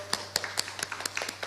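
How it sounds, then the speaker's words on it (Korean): Church congregation giving a short round of applause in praise to God, about a dozen sharp, distinct claps in quick uneven rhythm, close and fairly loud over faint hum. "하나님께 영광의 박수를 드리겠습니다."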